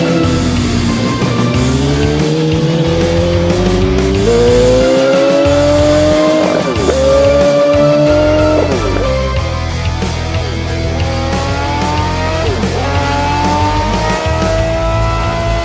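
A high-revving superbike engine, the most powerful production motorcycle in the world, screams through repeated rising gear shifts, loud and continuous, with the pitch climbing and dropping at each change.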